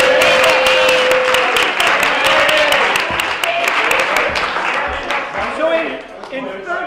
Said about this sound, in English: And one more round of applause for all the performers tonight.